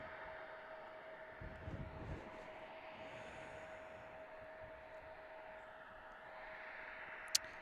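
A Spirit Airlines Airbus A320 approaching Chicago O'Hare, heard as a faint, steady distant jet whine and engine hum with soft broadband rumble and one brief sharp click near the end.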